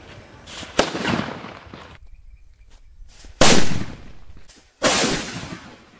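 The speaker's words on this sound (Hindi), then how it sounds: "सेकंड टेस्ट करते हैं इस वाले सुपर बुलेट बम को।" Super bullet bomb firecrackers set off for Diwali: three sharp, loud bangs a couple of seconds apart, each trailing off in a rough echoing decay over a faint outdoor background.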